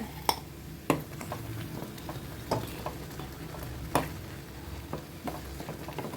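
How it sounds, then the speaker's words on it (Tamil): Banana stem chutney being sautéed in a pan, with soft stirring scrapes and light sizzle punctuated by a few sharp utensil taps against the pan, close and fairly quiet. "கொஞ்சம் நல்லாவே வதக்கிடலாம்"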